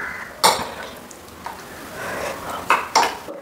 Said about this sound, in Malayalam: അത് മിക്സ് ചെയ്തിട്ട് ഇത് മിക്സ് ചെയ്യണം